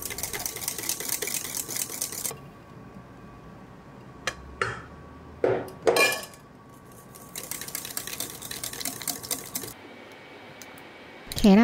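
Cream cheese base and egg base are beaten together in a bowl with an electric mixer for madeleine batter, the motor whirring in several bursts separated by pauses and a few sharp knocks against the bowl.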